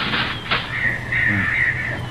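Seagulls call in a Dragnet radio drama, with repeated harsh cawing cries held over a steady low background rumble.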